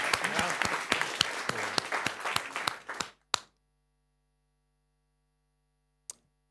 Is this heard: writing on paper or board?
no